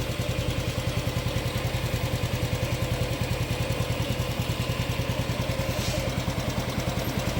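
A Honda Dream 2026 motorcycle engine idles with an even, rapid putter of regular firing pulses and a light mechanical clatter, steady and close throughout, with no talk.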